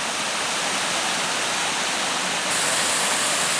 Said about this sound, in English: Nice camping along this stream too.